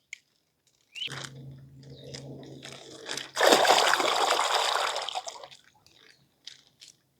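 Minnows being released into a homestead pond make a near, rushing splash and slosh that lasts a couple of seconds mid-clip, with a low voice and light drips before and after.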